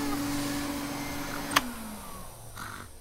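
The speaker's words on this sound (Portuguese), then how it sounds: "É só um aspirador de pó." A cartoon vacuum cleaner runs with a steady humming whine, then a sharp click and the motor winding down in pitch as it stops, followed by a faint brief whir, with no talking.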